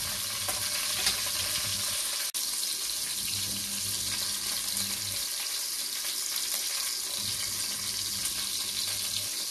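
Sliced garlic sizzles in oil in a cooking pot, giving a steady close crackling hiss throughout, with a single brief clack partway through.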